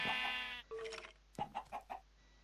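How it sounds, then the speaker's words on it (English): Sheep bleat and chickens cluck among farm animals in a video game, a long quavering bleat followed by a few short, quiet clucks, with soft background tones. "So there's zombies in with the chickens. We have sheep here."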